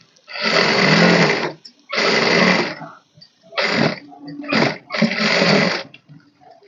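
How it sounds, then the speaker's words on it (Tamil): A sewing machine runs a blouse side seam at a half-inch allowance, loud and close, in four or five bursts of steady whirring stitching separated by short pauses. "நெக்ஸ்ட் அதே போல் பக்கம் 1/2 இன்ச்சில் 2 தையல் போட்டுக்கலாம்."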